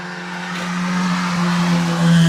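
A Renault Super 5 race car at a hill climb, its engine droning steadily and building in intensity as it drives past nearby, loud and continuous with no talk.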